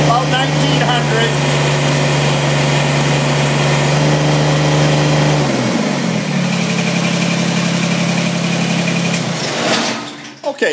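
A Kubota BX2370 compact tractor engine runs loud and close under hydraulic loader load, its steady drone shifting pitch partway through as the throttle changes, then continuing before a sudden drop at the end.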